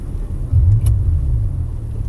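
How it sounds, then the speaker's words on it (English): A Rolls-Royce Dawn's engine runs with a steady low rumble close by, swelling slightly about half a second in and then holding an even idle with no talking. "Let's hear how this engine sounds."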